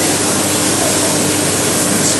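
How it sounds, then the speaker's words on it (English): Cooking oil sprayed from a spray can onto an oven tray, a steady close hiss held without a break for about two seconds, with no talking over it. "We are going to spray here."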